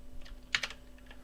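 Quick keystrokes on a computer keyboard, a small cluster of light, close clicks over a quiet room hum.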